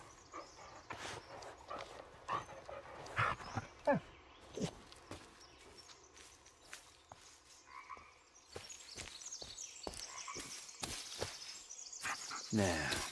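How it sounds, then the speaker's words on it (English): A dog in the Blair Witch game gives a series of short barks and whimpering yelps, scattered irregularly among footsteps and rustling, with a voice talking in between. "Yeah, good dog."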